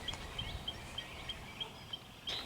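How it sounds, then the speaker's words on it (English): Faint, distant bird chirps repeating at a regular pace, high and thin over a soft outdoor hush. "The birds are singing."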